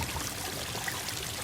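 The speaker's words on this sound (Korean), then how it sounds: "지금 화면상에는 분수대가 없는데 분수대 소리가" Continuous water splashing from a fountain in an Unreal Engine third-person game scene, a steady broadband pouring rush that stays even and fairly loud throughout with no talk.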